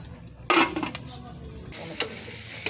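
Meat cooked down with a little vinegar and no added oil sizzles in a pan while being stirred, with a sharp scrape and clatter at the start, then a softer frying hiss and occasional light taps.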